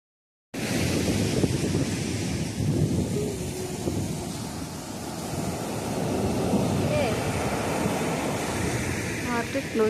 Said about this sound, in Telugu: సముద్రం సౌండ్ వినిపిస్తా మీకు?